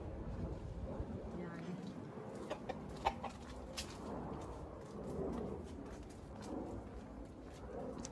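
Chickens cluck softly in the background of an outdoor fruit-tree garden in a city while a person talks nearby.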